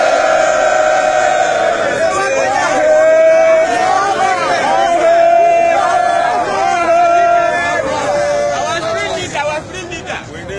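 A large crowd of men gathered awaiting Mazi Kanu, loud outdoor hubbub of many voices and shouts, with a prominent voice rising above the babble throughout.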